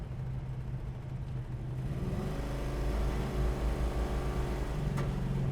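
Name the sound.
1970 Dodge Dart driving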